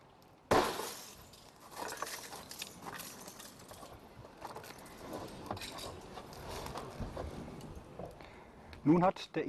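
A car window on a vehicle lying on its side is broken with a center punch during a rescue, giving a sharp shattering crack followed by crumbling glass and falling shards, with talk throughout and another crunch of glass near the end.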